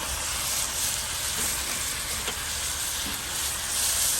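Steak sears on a Lodge cast iron wok set over a Weber kettle grill, a steady close sizzle and hiss running throughout, with a faint clink near the middle.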